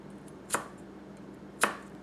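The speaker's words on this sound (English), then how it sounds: "My cuts are a little off here, so drops through that carrot very easy." A Tanaka Kurouchi 210mm gyuto drops through a carrot in two crisp, separate cuts about a second apart, each a short sharp snap against a quiet background with no talking.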